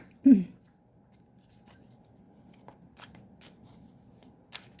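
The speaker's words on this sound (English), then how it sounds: "let's pull the health cards out here" Tarot cards pulled from a deck and shuffled: one close, brief riffle at the start, then soft, faint card slides and taps in a quiet room.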